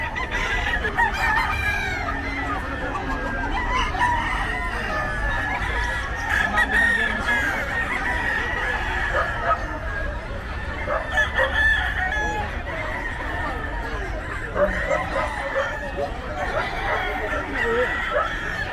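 Several gamecocks for sale at the Bocaue pet market, Philippines, crow repeatedly, some near and some farther off, over a busy background of clucking fowl and faint murmuring voices.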